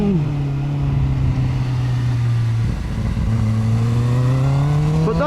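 A QJMotor SRK 921 four-cylinder super naked motorcycle revs up and holds a loud, close engine note with one brief dip, then climbs again near the end.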